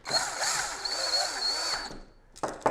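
An electric screwdriver whirs steadily for about two seconds while tightening screws on a spinning wheel flyer upgrade kit, then stops, followed by a short burst of the motor, up close.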